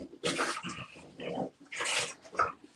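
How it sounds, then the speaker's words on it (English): Dogs making vocal sounds in a home in the background: several bursts that sound like whining or grumbling, spread unevenly across the moment, with no speech over them. "Can you all hear my dogs in the background?"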